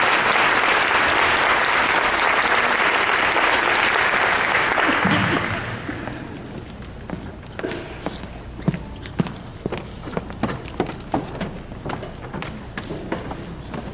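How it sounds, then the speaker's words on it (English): Loud, dense applause from a high school senior awards audience, honoring volunteers who played fake patients, fills the first five seconds and then thins into scattered individual claps and shuffling noises. "So give them a round of applause."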